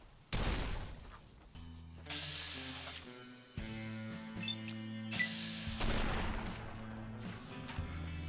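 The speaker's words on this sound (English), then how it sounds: "Wait, he threw a grenade." A grenade going off in Fallout New Vegas, a sharp loud blast followed by game music and effects, with a second burst of noise a few seconds later.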